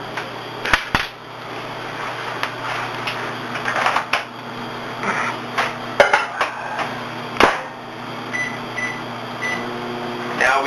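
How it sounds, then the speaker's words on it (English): A kitchen microwave heats a chocolate mixture for thirty seconds, giving a steady, fairly close hum throughout with scattered clicks and knocks on top. "We are going to pop this in the microwave for 30 seconds."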